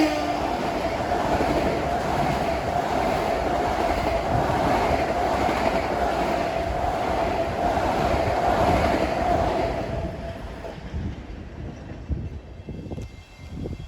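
An eastbound M9 electric commuter train on the Long Island Rail Road runs through New Hyde Park station, a loud, steady rolling rumble with rail clatter and a sustained tone that fades out toward the end.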